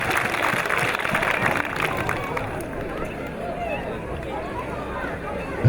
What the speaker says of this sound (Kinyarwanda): tubongera amashyi menshi cyane